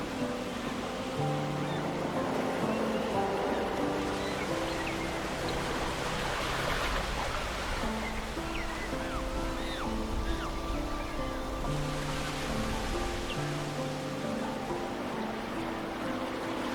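Ocean waves at Boulders Beach, South Africa, break in a continuous broad wash of surf that swells and eases, heard beneath a layer of steady music.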